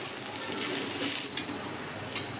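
Thinly sliced onion, half a medium one, sizzles and fries in a pan with a steady hiss and a couple of faint stirring clicks.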